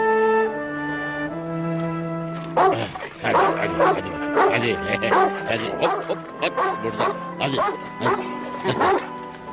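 A dog barks in a series of yips and bow-wows, with a few whimpers, under dubbed Turkish film dialogue and music.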